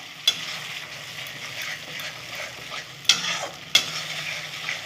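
Cashew and melon seed paste fries with spices for a Bengali cabbage dish, a soft continuous sizzle broken by a few sharp, close spatula knocks against the pan as it is stirred.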